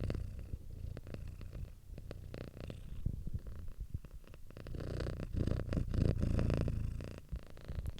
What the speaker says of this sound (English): Kitty ASMR.